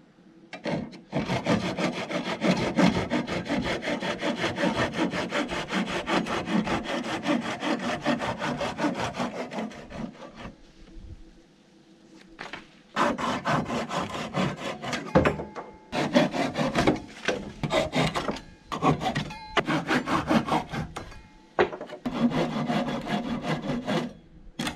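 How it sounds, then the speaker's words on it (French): A Japanese pull saw with unset teeth cuts through wooden laths in steady, rapid back-and-forth strokes. The rasping is loud and close, with a short pause and a brief quieter stretch partway through before the sawing picks up again. "Je vais couper toutes mes lattes."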